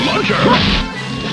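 A single loud smash-like hit from a belly launcher attack in the Clay Fighter 63 1/3 fighting game, a brief whooshing impact with a game voice over it.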